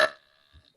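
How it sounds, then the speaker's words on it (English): A short burp during a friendly burping contest between two girls, one brief throaty belch at the start that fades quickly, followed by a faint low rumble, with no talk over it. "your burp was probably a 4"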